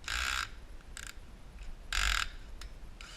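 Screws being removed from the upper fixing roller of a Konica Minolta Bizhub 601/751 copier, heard as bursts of a whirring driver separated by short pauses and small clicks, close and fairly quiet with no talk.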